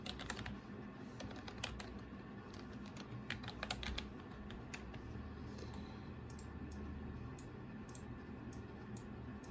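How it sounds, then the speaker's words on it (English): Keys on a computer keyboard are typed in quick irregular bursts, entering a phrase in capital letters during a vinyl-decal design job; close and clear over a steady low room hum, with no talking. "now I'm gonna type in my Pretty Wicked in capital letters"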